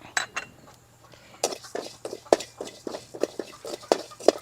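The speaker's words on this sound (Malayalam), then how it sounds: "ഞാൻ രണ്ട് ടേബിൾ സ്പൂൺ ചെറിയ ജീരകം എടുത്തിട്ടുണ്ട് അതിട്ട് വറുക്കാം" Two tablespoons of small cumin seeds being dry-roasted in a hot pan for Kerala sambar powder, with a spoon clinking and scraping against the metal in an irregular stirring rhythm, close and fairly quiet.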